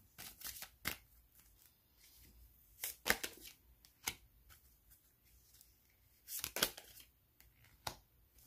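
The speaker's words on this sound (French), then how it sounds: "on va prendre 3 cartes pour la relation" Tarot cards being drawn and handled for a reading, with quick papery shuffles and flicks in short bursts separated by quiet pauses, close and crisp.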